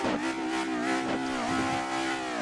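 An Audi A4 RS WTCC 2007 race car engine in Assetto Corsa drones at high revs with a steady harmonic whine, pitch dipping and climbing slightly as gears shift, loud and close with no talking.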